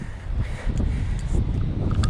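Gusty wind on a deserted island buffets the microphone in low rumbling bursts, rising and falling over a couple of seconds.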